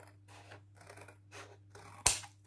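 Scissors cutting by eye through clear plastic for a stamp storage pouch, a few soft snips over a steady low hum, then one sharp, loud closing snip near the end.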